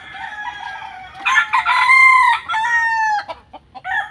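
Rooster crowing close by, a loud drawn-out call followed by shorter clucking bursts, with no voices.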